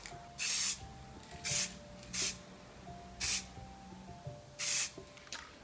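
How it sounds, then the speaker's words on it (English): White car spray paint hissing from an aerosol can in five short bursts of roughly half a second each, close and distinct, separated by quiet pauses. "I've got some white car spray here, so I'm just going to do a little blast in a few corners"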